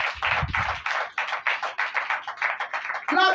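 A congregation at a church service claps in a steady, even rhythm for several seconds. The applause is fairly close and has no talk over it.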